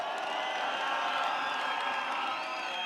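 An outdoor political rally crowd in Mai Mahiu cheers and claps for a speaker, a dense roar of voices and whoops sustained at moderate distance.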